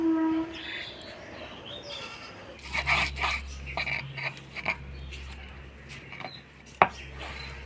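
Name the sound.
grinding gandhapatila leaves on a stone slab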